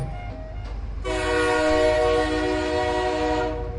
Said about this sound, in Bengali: গভীর লম্বা ট্রেনের হর্ন বেজে উঠল